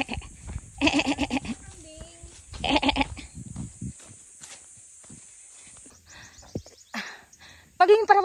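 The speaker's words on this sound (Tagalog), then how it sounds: "Lalakad na kami kasama yung mga kambing." Goats bleating along the Mt. Ayaas hiking trail, a few short calls heard mid-distance amid footsteps and rustling, with people talking nearby.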